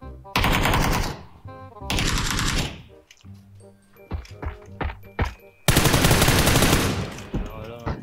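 Bursts of automatic gunfire from the video game PUBG, several loud sustained volleys and scattered single shots close by, with brief gaps between them.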